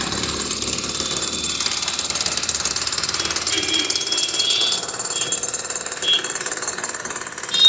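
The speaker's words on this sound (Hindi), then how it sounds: "ये देखिए ड्रिल से इसको इस प्रकार से इसको गिराया जा रहा है।" A drill rig breaks up a building during demolition work in Mughalsarai, India. The loud, rapid, continuous hammering rattles on for several seconds, with faint voices in the background.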